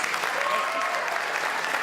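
Audience applause at an elevator pitch competition at Champlain College fills the room, a dense steady patter of many hands clapping.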